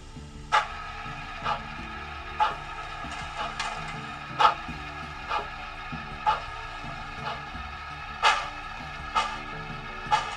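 A SoundTraxx model railroad sound decoder plays steam locomotive exhaust chuffs, a slow, evenly spaced series of about a dozen sharp barks over a faint steady hum, fairly quiet and with no talking.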